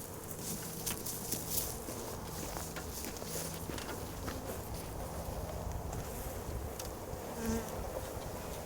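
A swarm of bees buzzes steadily outdoors, a dense, faint hum of many insects with individual bees passing close now and then.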